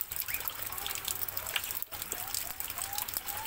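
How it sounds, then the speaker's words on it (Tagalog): Steady rain falls and trickles in a morning outdoor setting where native labuyo chickens are kept, a continuous wet patter with dribbling water throughout and faint speech-like sounds mixed in. "Dahil maulan ngayon"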